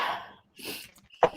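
A single sharp, explosive sneeze bursts out near the end, following brief murmured sounds and a short silence.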